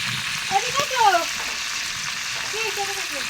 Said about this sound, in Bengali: আর এই যে রোস্টটা চুলাই দিয়ে দিছে, মানে কড়াইতে ভাজতে আছে।